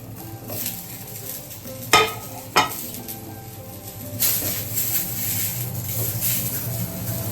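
Eggplant frying in oil on a griddle under a large idli-steamer lid gives a steady low sizzle, with two sharp metallic clanks of the lid early on and the frying growing louder afterward.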